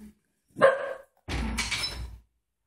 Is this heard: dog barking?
yes